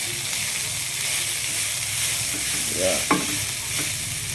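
Enoki mushrooms tossed into a hot pan for Chinese-style spicy noodles, with a steady sizzle and frying hiss, scraping stirs, and a brief clatter near the end; a short spoken word is heard.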